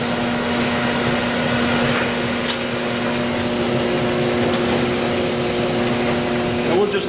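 A seed treatment tumbler machine runs as a steady, loud mechanical drone with a constant hum, staying even and unbroken throughout, with a few faint clicks.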